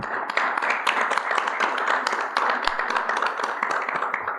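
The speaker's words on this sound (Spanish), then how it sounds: "voy a pedir un fuerte aplauso para Mauro" A crowd at an institute gathering applauds Mauro, steady close clapping from many hands lasting throughout, with no talking over it.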